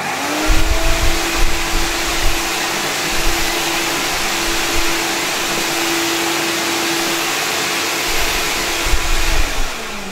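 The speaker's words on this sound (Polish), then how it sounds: "I myślę, że teraz możemy się odważyć i włączyć wylot powietrza z odkurzacza" An old Zelmer vacuum cleaner drives a Domgos RFSD carpet cleaner attachment set to maximum, producing a loud, steady motor whine with a constant pitched tone and low rumbling pulses underneath.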